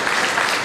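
Brief burst of audience clapping at a Friendship Day celebration, a dense, even wash of many hands from a crowd, heard alone.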